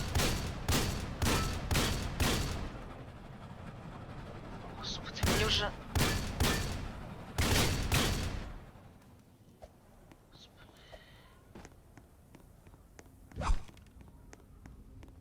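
Rapid bursts of gunfire in clusters in the video game Dead Rails, loud and close, then quieter stretches with a faint whispering voice and one last distant shot.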